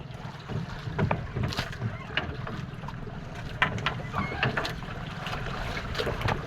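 Strong northeast monsoon wind gusts over a small boat at sea, rumbling against the microphone with intermittent splashes and knocks of water against the hull, fairly close and uneven in strength.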